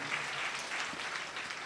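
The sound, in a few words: congregation clapping in praise at church service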